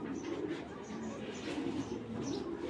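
A red checker racing pigeon coos in low, soft, repeated pulses, close by but faint, with quiet talk underneath.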